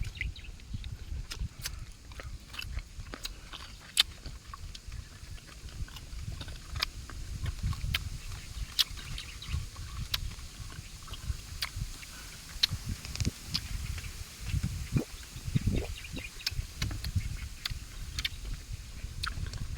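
Close, crisp crunching and chewing of small crunchy mangoes recurs irregularly over a low background rumble, with occasional sharp clicks and no talking.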